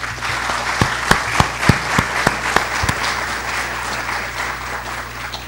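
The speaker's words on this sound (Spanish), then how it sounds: "vamos a recibir con un fuerte aplauso al profesor Jordi Neva Fenol" A crowd of around a hundred people applauds at a lecture on evidence evaluation, a dense burst of clapping that peaks early and then thins and fades, with no voices.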